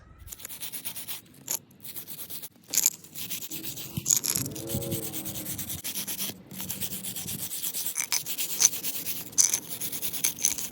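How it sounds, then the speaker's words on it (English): A wire brush scrubs debris off a Dodge Charger or Challenger brake caliper bracket in close, raspy back-and-forth strokes, with brief pauses between bursts and a few faint metallic clinks. "So I'm going to wire brush that out"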